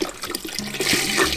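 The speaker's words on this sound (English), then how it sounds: "But put some two things of chicken broth in there." Chicken broth pouring into a pot for duck gumbo over a flour roux, a short close gush of liquid that swells and splashes louder toward the end.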